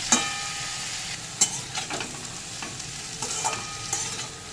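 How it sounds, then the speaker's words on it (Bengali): Vegetables stirred in a pan with salt, turmeric, cumin and chili powder, a close sizzle under repeated scraping and knocking of the spoon, busy and uneven, with no voices. "এবার সবজিটাকে এই সব মশলা দিয়ে একটু নাড়াচাড়া করে নিচ্ছি"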